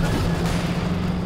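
Rocket barrages and artillery fire in a 4v4 Company of Heroes 2 match rumble continuously with dense, loud battlefield booms, while a voice talks over the din.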